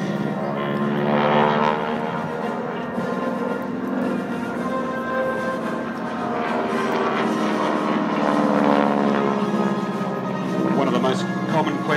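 A propeller-driven training aircraft from the Empire training scheme era roars past during a display at the Avalon Air Show, a loud, sustained engine drone swelling and easing, with a commentator talking over it.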